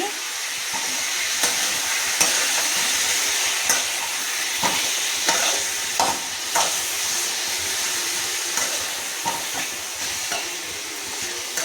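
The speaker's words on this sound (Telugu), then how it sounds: "ఈ పసుపు ఈ ఉప్పు ముక్కకి పట్టేలాగా వేపుకోవాలి" Chicken pieces fry in a pan with turmeric and salt for a crispy chicken fry, a constant bright hiss broken by periodic stirring knocks and scrapes, no talking.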